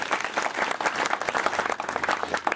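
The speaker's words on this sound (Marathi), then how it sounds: "खरं तर त्या शिक्षकांसाठी टाळ्या वाजवा" A crowd applauds at a primary school's annual gathering with dense, steady clapping that stays close and loud throughout, with no break and no speech.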